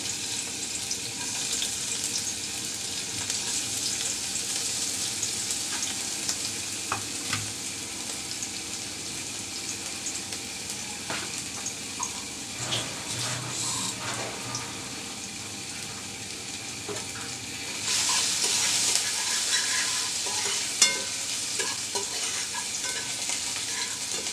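Minced garlic and ginger fry in a small amount of oil with a steady, hissing sizzle. Occasional stirring scrapes and clicks cut through, and the sizzle swells louder near the end.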